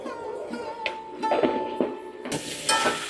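Spoon stirring turmeric and salt through hilsa fish curry in a pot, soft scraping and sizzling strokes repeating close up over gentle frying hiss, brighter sizzle near the end.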